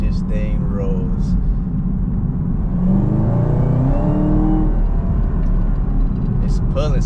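A Chevrolet Camaro ZL1 with 650 horsepower, bright red, pulls hard in sport mode from inside the cabin, a loud continuous engine roar rising in pitch while someone talks over it.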